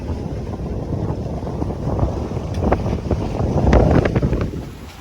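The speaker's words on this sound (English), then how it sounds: "It's getting pretty gusty." Strong, gusty wind buffets a reefed sailboat at sea in about 18–24 knot winds, a steady roar with rushing surges and water slapping against the hull, building louder toward the end.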